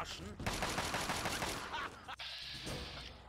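Rapid bursts of Fallout 3 gunfire crackle in quick succession, followed by a sharper shot and a ringing tone, with a voice briefly audible.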